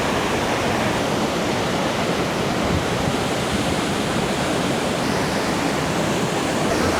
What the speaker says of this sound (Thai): น้ำตกเขวนรกนะ